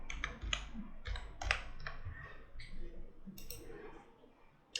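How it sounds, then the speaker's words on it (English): Keys clatter on a computer keyboard in quick irregular bursts of close clicks and taps, typing text in Photoshop, with short pauses between the runs. "We are going to type Facebook family."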